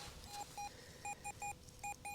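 A metal detector sounds short, clean electronic beeps over a buried target at an 1800s homestead site, coming mostly in quick doubled pairs in an even rhythm, close and fairly quiet.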